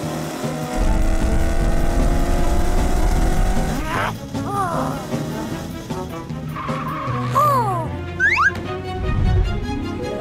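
Cartoon race car engine revving with squealing tires and skidding, loud and close, a sustained engine drone followed by sharp rising and falling whooshes and squeals.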